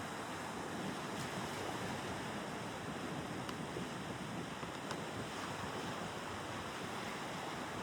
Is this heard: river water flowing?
yes